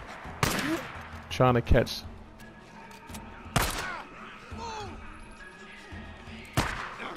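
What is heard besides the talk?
gunfire in video game Days Gone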